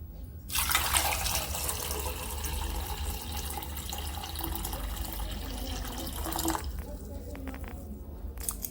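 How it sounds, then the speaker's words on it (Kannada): Water pours and splashes steadily from a kitchen tap or pot as hot water is drained off boiled eggs and cold water is run over them, a continuous close wash lasting several seconds before easing into lighter drips and trickles. "ಈಗ ಈ ಬಿಸಿ ನೀರನ್ನು ತೆಗೆದ್ಬಿಟ್ಟು ಬಸಿದ್ಬಿಟ್ಟು ಕೋಲ್ಡ್ ನೀರನ್ನು ಹಾಕೋಬೇಕು."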